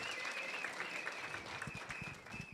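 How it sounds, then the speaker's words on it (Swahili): Audience applause for the chairman at a Shabana club luncheon, a continuous wash of clapping with a voice speaking over it throughout. "Wapi makofi ya chairman tafadhali?"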